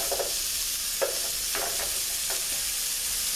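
Onions sizzle in a pan of melted fat, a constant close frying hiss broken by several soft stirring scrapes and taps.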